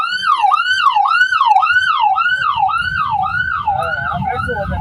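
An ambulance siren wails in fast, repeating up-and-down sweeps, loud and near, passing alongside a bus heading to Jerusalem, while a vehicle engine rumbles underneath and grows toward the end.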